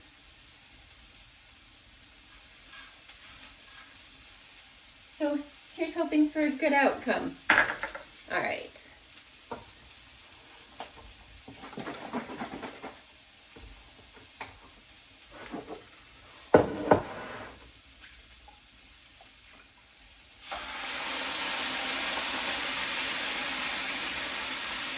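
Lentils hit a hot pan and sizzle with stirring clatter, then a steady loud hiss of frying takes over near the end; a person talks briefly over the cooking sounds.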